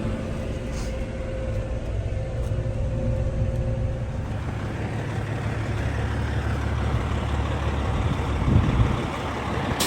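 Vehicle rumbling and bumping over frozen cow pies on a Missouri farm in bitter winter cold, a steady engine drone close and fairly loud with rough jolts, no talking.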